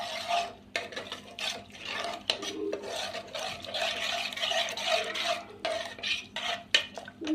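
A spoon stirs ragi flour mixture in a pot, giving a repeated scraping and rubbing rhythm with occasional clinks against the pot's sides, close and moderately loud.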